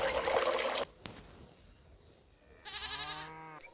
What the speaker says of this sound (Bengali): ও মা, ছাগল এসে আমাদের ফেলে দিল